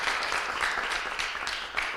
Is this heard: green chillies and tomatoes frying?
no